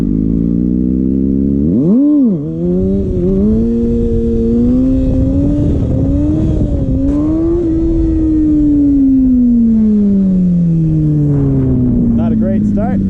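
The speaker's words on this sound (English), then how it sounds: "back again on the Ninja at the spot. Need to practice some wheelies." A Kawasaki Ninja ZX-6R motorcycle engine revs up and down close by while the rider practices wheelies, with a rising, falling whine that swells and sags repeatedly over a steady rumble.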